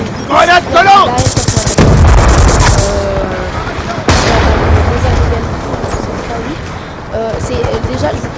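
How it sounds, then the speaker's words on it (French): Sticky grenade blast and heavy gunfire in a first-person shooter, played in extreme conditions mode: loud overlapping shots and booms, a sharp burst near the middle, with game voices and the player talking over the action. "Grenade collante!"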